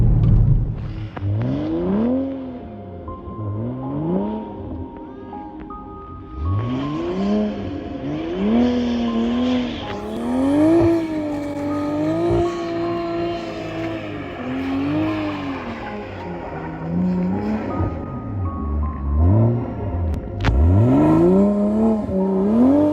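A Toyota A90 Supra drifts around a snowy parking lot in a blizzard, its engine revving up and down in repeated swells and rising pitches, loud and close from inside the car for the whole stretch, with no talk.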